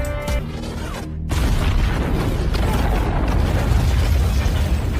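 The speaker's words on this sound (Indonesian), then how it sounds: "namun Nix harus mati setelah meledakkan dirinya" An explosion from the action film Guns Akimbo: a sustained, loud, roaring blast with rumbling low end and crackling debris, following a brief tonal sound and a sharp cut.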